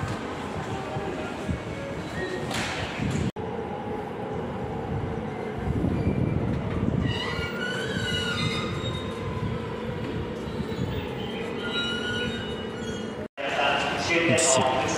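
A train pulls into a Japanese railway platform, its wheels squealing in shrill, wavering high tones over a rumbling, clattering roar, with brief cuts in the sound and the squeal swelling through the middle.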